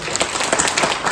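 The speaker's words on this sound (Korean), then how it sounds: "박수 부탁드리겠습니다." A short burst of audience clapping at a high school parents' association annual general meeting in Sangju, a dense patter of many hands, lasting barely over a second.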